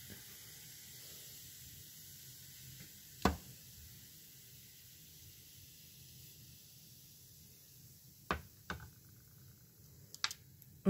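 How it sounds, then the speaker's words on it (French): Cider vinegar fizzing as it reacts with baking soda, a faint, continuous soft hiss of bubbling with a few sharp clicks and taps from the spoon or container scattered through it. "On entend la formation du dioxyde de carbone"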